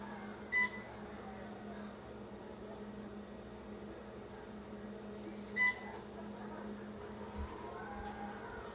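A kitchen cooking timer sounds two short, separate beep bursts several seconds apart over a low, steady room hum, during the baking of apple butter pie tarts.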